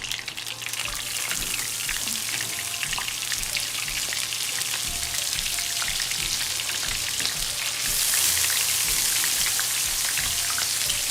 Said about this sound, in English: I'm dropping them in the pot right now.